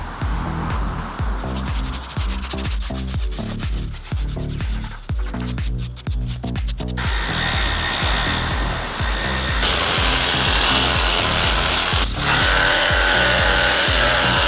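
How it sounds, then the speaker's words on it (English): Wicker patio furniture is scrubbed hard, a loud close rhythmic rubbing and brushing with quick repeated strokes, getting denser and harsher partway through, with no talking. "we are going to go scrub down the wicker furniture, give it a little bath before the mildew stuff arrives"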